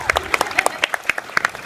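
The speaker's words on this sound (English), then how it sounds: "that deserves a clap" Sparse audience clapping at a FanExpo Toronto 2016 fan convention panel, a scattering of separate sharp claps spread unevenly rather than a full ovation, fairly close and moderately loud.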